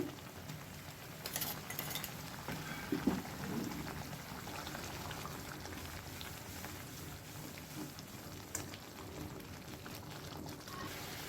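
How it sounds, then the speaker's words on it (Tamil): A pot of Karnataka-style paruppu rasam with tamarind water and two spoons of ground masala powder bubbles steadily, a soft continuous simmering hiss with faint pops, alone and without talk. "அதுவும் இதோட சேர்ந்து நல்லா கொதிக்கட்டும்"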